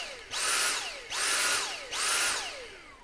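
A Dyson V6 cordless vacuum with a dying battery cycles on and off by itself, giving three loud motor surges. Each whine swoops up in pitch as it starts, then winds down before a brief gap.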